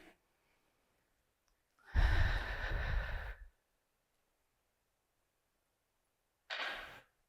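One deep, slow breath in and out during a calming exercise, close and soft, followed after a pause by a shorter second breath.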